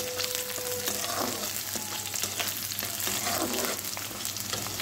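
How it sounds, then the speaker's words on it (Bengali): Cashews and raisins fry in hot oil with a continuous crackling sizzle, punctuated by light stirring scrapes, steady and close throughout. "এই যে এখানে কাজু আর কিশমিশগুলো ভালো করে ভেজে নিচ্ছি।"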